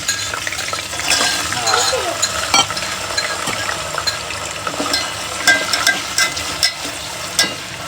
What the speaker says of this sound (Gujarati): જુઓ, બટેટા ફ્રાય કરી લઈએ થોડાક.